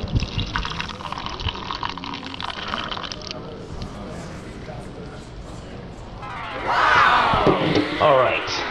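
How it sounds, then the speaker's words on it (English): Espresso is poured into a cup for an iced cappuccino, a liquid splash and trickle near the end, with a voice heard in the background beforehand. "we're going to go ahead and bring our espresso over. We're going to pour this right on in."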